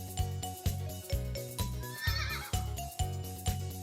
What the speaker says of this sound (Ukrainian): Це кінь.